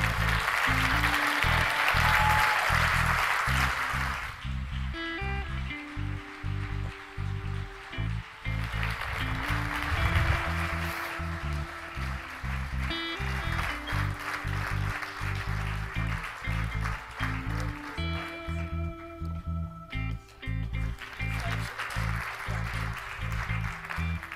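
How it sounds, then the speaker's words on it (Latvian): Audience applause fills the hall at a folklore award ceremony, a steady wash of clapping over a loud, rhythmic low-pitched musical accompaniment that continues throughout. "Aplausi!"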